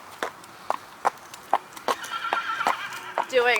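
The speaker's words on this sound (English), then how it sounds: "He's a very nice riding horse." A horse's hooves clip-clop in a steady walking rhythm, close by, ending with a whinny, while a person talks alongside.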